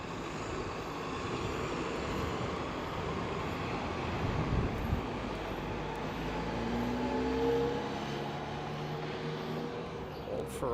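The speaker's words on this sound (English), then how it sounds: "Old Ferrari, nice." An old Ferrari passes along a downtown Toronto street on a spring evening, its engine a steady mid-level drone that swells slightly as it goes by, set amid continuous city traffic noise with no talking.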